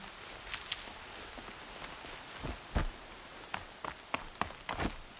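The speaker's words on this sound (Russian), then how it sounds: "Дождь — это неплохо." Steady rain hisses across a surface, with scattered louder drips and splashes popping up near the end.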